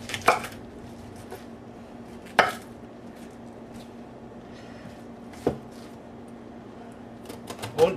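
A knife cuts a whole cabbage into wedges on a board, giving a handful of separate sharp chops spaced a few seconds apart, with a faint background hum between them.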